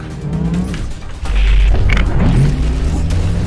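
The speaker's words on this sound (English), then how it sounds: "Loading the Demolisher cannon. Fire!" Demolisher cannon firing in the X-Morph video game, a loud booming blast with heavy rumble and mechanical whine, the sound sustained and dense throughout.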